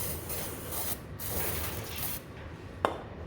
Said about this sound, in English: So I'm going to just brake cleaner all of the excess oil